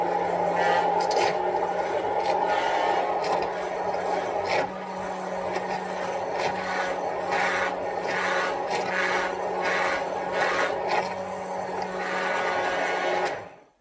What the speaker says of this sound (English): So I'm just going to use my immersion blender